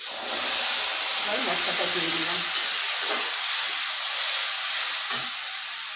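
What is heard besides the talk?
spice paste sizzling in hot pan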